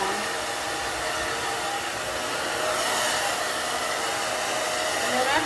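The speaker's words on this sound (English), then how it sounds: "And then I just use the hair dryer to just kind of move the hair around where I want it to" A hair dryer blows steadily on a synthetic wig, giving a loud, continuous close-up whoosh that holds an even level throughout with no talk.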